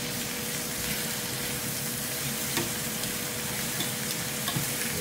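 Meat frying in its own rendered fat in a dry skillet without added oil, ahead of making adobo, gives a steady, even sizzle with light stirring scrapes throughout.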